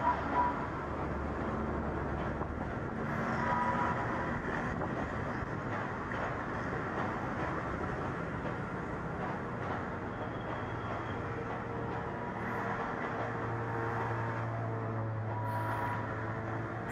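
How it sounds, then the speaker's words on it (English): A steady low rumble of a train leaving Bangkok's Hua Lamphong station and switching tracks, with a sustained droning hum and distant traffic noise around it. "What we are seeing is a train exiting the station."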